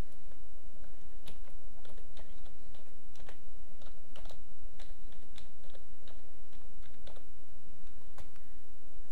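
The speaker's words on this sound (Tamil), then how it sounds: "இப்போ டைப் பண்ணலாம்" Typing on a computer keyboard, a steady stream of quick irregular key clicks close up, continuing throughout over faint background hum with no talking.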